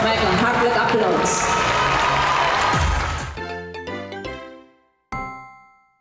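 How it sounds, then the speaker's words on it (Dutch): Audience applause at a Surinamese school farewell evening: a dense, steady wash of clapping for about three seconds that fades out, followed by a tinkling jingle of chimed notes. "Met een hartelijk applaus."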